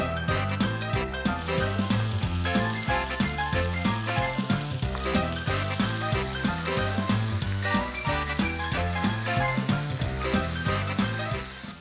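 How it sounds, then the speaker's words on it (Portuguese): Sliced onion goes into a pan of well-browned, crisp bacon. The steady, crackling sizzle carries a regular pulsing rhythm, as if the pan is being stirred throughout. "Nosso bacon já tá aqui no ponto, ó, já tá bem douradinho."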